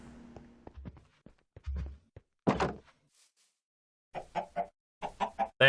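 Minecraft chicken clucking in short choppy bursts, with several soft thuds and clicks between the calls and a final run of quick close clucks.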